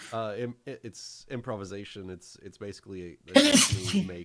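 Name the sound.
sneeze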